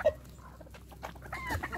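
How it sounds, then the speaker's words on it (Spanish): Hens in a backyard chicken coop cluck close by, one sharp, loud cluck at the start followed by softer, scattered clucks and murmurs from the flock, with no talking. "Ahí están las gallinas."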